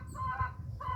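Chickens clucking and crowing nearby, two drawn-out calls separated by a short pause over a soft low background.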